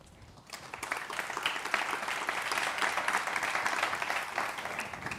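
Audience applause at a technology forum in Valencia, a dense burst of many hands clapping that rises quickly after a brief quiet start and holds steady for several seconds.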